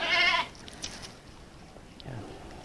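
A goat bleats loudly once at the start while being fed dried mango, followed by quieter rustling and a faint second animal call near the end.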